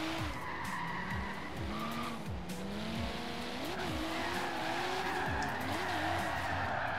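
Several cars drift in tandem in Forza Horizon 3, with engines revving and warbling constantly while tyres squeal and skid through repeated slides, loud and continuous for the whole stretch.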